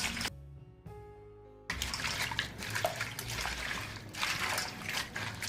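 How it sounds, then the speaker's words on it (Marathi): Spinach (palak) leaves for crisp bhaji are washed in water, giving a steady rush of splashing, running water that starts abruptly after a quieter, humming opening and continues close and moderately loud. "असं धुवून घ्यायचा कारण की याचे सगळे पानं स्वच्छ आहेत"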